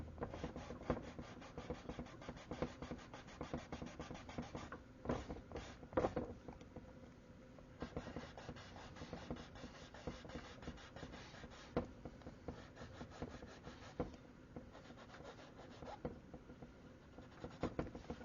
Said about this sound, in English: we use this soft eraser for some of the bigger areas that we don't want to leave a definite edge to our erasing